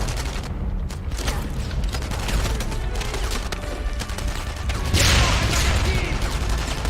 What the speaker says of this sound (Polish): Jeszcze z bazuki wali któryś